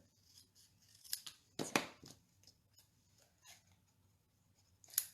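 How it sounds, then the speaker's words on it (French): Scissors snipping through cardstock while making a handmade Christmas card, several sharp separate cuts spaced irregularly, close and fairly quiet with no talking. "je vais le faire avec des ciseaux"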